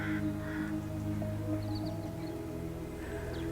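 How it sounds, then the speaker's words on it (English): A few harsh caws from crows at a distance sound over a steady low hum, two short calls early and one more near the end. "there seems to be an increase in crows, and they seem to be doing a lot of murmuring and squawking"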